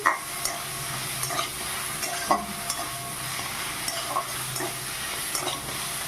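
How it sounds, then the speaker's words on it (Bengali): Greens and peanuts are stirred in a hot frying pan, with a continuous sizzle broken by light scraping taps of the spatula at a loose, uneven rhythm, close up. "এইভাবে কিছুক্ষণ নেড়ে চেড়ে নিই।"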